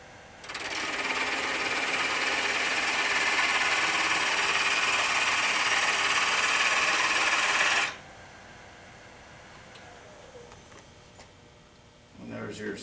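A cutting wheel grinding a spiral into a pendant ornament gives a steady high-pitched whine with a faint fixed tone for several seconds. It then cuts off, leaving only a quieter motor hum, and a brief rustle follows near the end.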